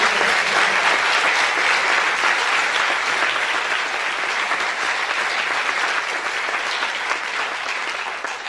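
A crowd applauds at the opening of the 26th Présence autochtone festival in Montreal, a loud, sustained wash of clapping that continues evenly throughout without any talk.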